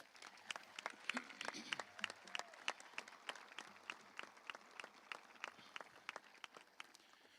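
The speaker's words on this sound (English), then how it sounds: "Please join me in a round of applause for our teaching staff." Applause for the teaching staff at a high school graduation ceremony, faint and distant, with scattered sharp individual claps over a soft crowd wash and some murmuring voices.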